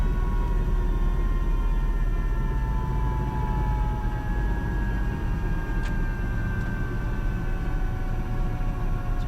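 AS355 Twin Squirrel twin-engine helicopter shutting down, both turbines and the main rotor winding down: a steady, loud whine with several tones slowly sliding lower in pitch over a low rumbling drone, with no talk.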